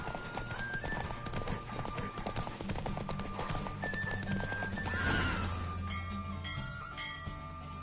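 Roach the horse galloping in a race in The Witcher 3 video game, rapid rhythmic hoofbeats with a whinny, over game music and effects.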